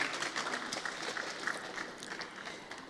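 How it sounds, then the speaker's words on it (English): An audience applauds at a media lecture series event marking Professor Wole Soyinka's birthday, a steady patter of clapping from a moderately sized crowd that stays fairly even, slightly faint, and fades a little toward the end. "I think he deserves a round of applause."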